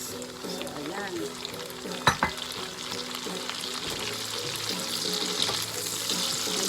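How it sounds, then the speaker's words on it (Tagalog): Asparagus stir-frying in a pan with pork and oyster sauce gives a steady, close sizzle with occasional stirring scrapes and a sharp clatter of the utensil midway. "pagkatapos natin ilagay yung oyster sauce, isunod na natin ang asparagus"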